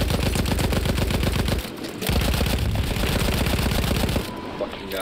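Sustained automatic gunfire in Battlefield 1, loud rapid bursts close by with a brief pause midway, trailing off at the end, with a voice talking underneath.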